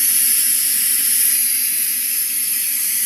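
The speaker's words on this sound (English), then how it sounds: "it's going to release the rest of the pressure out of the unit" A pressure cooker vents its remaining steam in a quick release while cooking with food storage ingredients, giving a loud, steady, close hiss that holds unbroken throughout.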